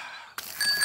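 Cartoon bicycle bell rings out once, bright and clear with a lingering metallic tone that sustains to the end, following a brief quieter musical passage.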